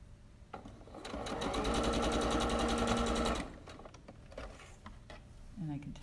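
A sewing machine stitches quilt pieces in one steady, fast run lasting a couple of seconds, then stops, with a quieter room and faint clicks afterward. It is close and loud, with no speech over the stitching.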